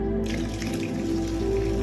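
Water runs steadily through a siphon hose while moss and water are drawn out of a planted aquarium during a water change, a close, continuous trickling gush with faint dripping.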